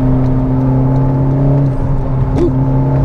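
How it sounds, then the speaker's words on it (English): Honda Civic Type R (2021) engine blipping during a rev-matched downshift, a loud steady hum that briefly swoops up in pitch near the end, heard from inside the cabin with no talk. "Take a look at this rev match."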